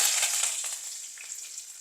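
Curry leaves and mustard seeds hit hot oil for lemon rice, giving a bright, steady sizzle with crackling pops that eases slightly, close and alone without talk.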